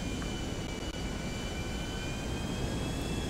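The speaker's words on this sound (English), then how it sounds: "I'm getting in a plane right now" Aircraft engine noise in GTA Online, a steady, loud, continuous roar with a faint high whine throughout, no voices over it.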